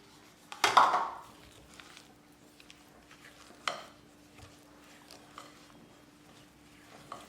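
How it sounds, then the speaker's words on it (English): Eggless oat cookie dough being mixed in a bowl with flour, baking soda and the remaining ingredients, with a sharp utensil clink and scrape near the start, another a few seconds later, then soft intermittent stirring noises. "here we're just adding the rest of the ingredients and mixing"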